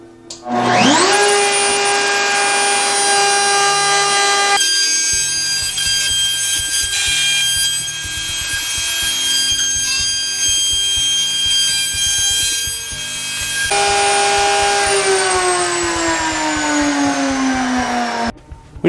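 A router spins up with a rising whine and cuts a 45-degree chamfer on wooden urn molding, a loud rough buzzing grind over a steady motor drone, then the cut ends and the motor winds down.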